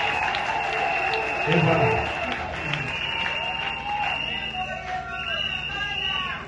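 A church congregation at a bishop's installation ceremony claps and cheers, a broad wash of applause and crowd noise that swells early then thins as a voice speaks over it.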